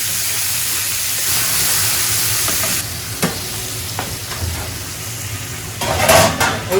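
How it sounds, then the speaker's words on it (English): Continuous loud sizzling and hissing of potatoes frying in a pan, with a few scraping stirs and clinks of a utensil near the end. "So frying potatoes"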